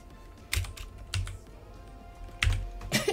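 Fingers tap out a code on a computer keyboard, a few separate keystrokes and short clusters of clicks, close and distinct against a quiet background.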